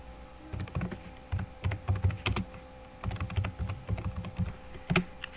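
Fingers tap on a computer keyboard in irregular bursts of close, crisp clicks with short pauses between runs, while a command is entered to open Jupyter Notebook on a Windows PC.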